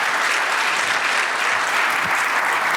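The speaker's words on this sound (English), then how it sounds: "how about a round of applause for this panel" Steady, dense applause from a conference audience honoring a panel and its moderator at a space acquisitions event, loud and continuous throughout with no voices over it.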